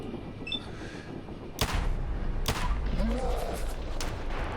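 Raider gunfire in Fallout 4, survival mode: two sharp, loud gunshots about a second apart, cutting through a low steady background hum.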